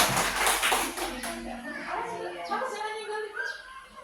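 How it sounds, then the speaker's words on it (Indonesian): Children applauding in a classroom, a burst of brisk overlapping hand claps near the start that fades as children's voices chatter and talk over it. "Tepuk tangan semuanya."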